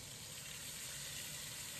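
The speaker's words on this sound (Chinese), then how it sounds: "用锅的底油把蒜末爆出香味，倒入调好的料汁" Garlic and a prepared sauce sizzle in shallow hot oil in a wok, a steady, even hiss of frying that holds at a moderate level without a break or any voices.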